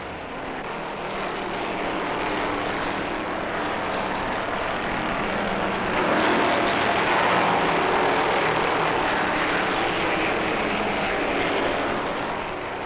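Stock cars at full throttle in the 1972 World 600, a steady loud roar of racing engines that swells slightly midway and holds, with no talk over it.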